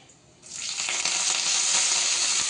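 Dried red chillies and curry leaves drop into hot oil for a tempering, bursting into a loud, steady sizzle after a brief quiet start, crackling close and continuous to the end.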